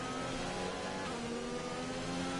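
A GP2 race car engine at the China round in the rain, heard as a steady, loud, high-pitched whine with dense harmonics that holds at near-constant revs, close and alone.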